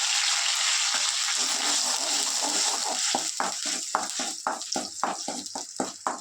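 Pasta paste fries in oil in a pan with a constant sizzle. Partway through, a steady run of rhythmic scraping strokes begins as the paste is stirred.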